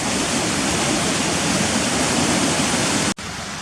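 Water forced between rock slices at Cotter Force waterfall roars in a loud, steady broadband rush, close and unbroken apart from a momentary dropout near the end.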